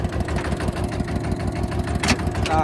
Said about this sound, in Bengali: ক্লাচ ছাড়বে ধীরে ধীরে এবং সামনে দিয়ে যাইতেছে